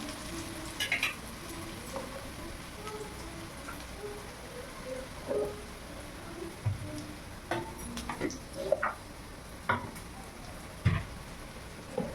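Onions sizzle steadily in a pan as they fry toward a deep red for mutton kosha, with intermittent scraping clicks from a spatula stirring them, fairly quiet and without talk.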